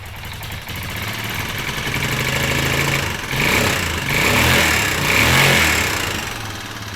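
A small engine, apparently on a shop-made project, runs steadily with a rough, buzzing idle, then rises in a couple of moderate revs before settling back, loud and close with no talking.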